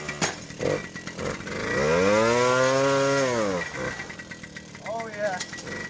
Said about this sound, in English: Gotta start the bike up.